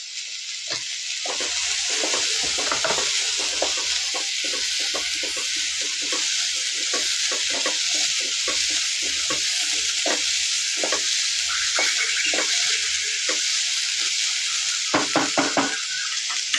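Cauliflower chutney ingredients frying in oil, scraped and stirred with a spatula against the pan: a continuous loud sizzle broken by a dense run of rhythmic metallic scrapes and knocks, with no one talking.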